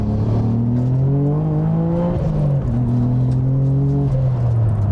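Manual Nissan Skyline GT-R engine pulling hard from inside the car, a loud, steady rising drone that climbs in pitch, dips briefly at a gear change, then climbs again.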